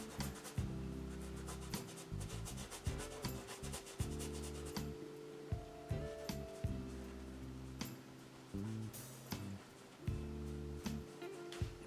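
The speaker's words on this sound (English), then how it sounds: "I'm using chisel edge of the brush to get that. Kind of scraping it on" The chisel edge of a brush scrapes acrylic paint across a canvas in short, soft, dry rubbing strokes, faint and close, repeating irregularly with slight pauses.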